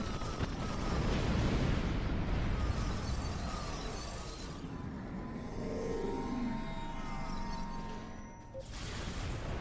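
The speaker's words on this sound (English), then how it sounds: "I love flying through explosions." A starship flies through explosions in Star Trek Online, with dense, continuous roaring blasts and rumbling debris layered over mechanical hum and faint tonal effects.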